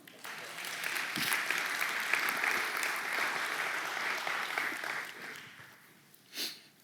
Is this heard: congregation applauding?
yes